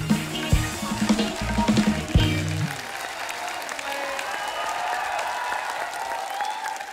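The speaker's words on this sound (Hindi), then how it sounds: "एक बार जोरदार ताली हमारे मेहमानों के लिए" Loud studio-audience applause greets guests on a Hindi comedy talk show, a dense steady clatter that rises out of a brief musical sting and carries on to the end.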